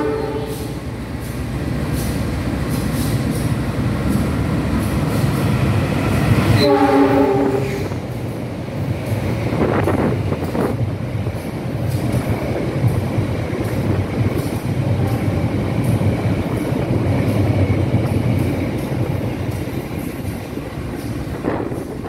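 Kutojaya Selatan train passing at speed near Kebumen station, a loud continuous rumble and rush of carriages with a short horn blast partway through, then steady wheel and wind roar close by.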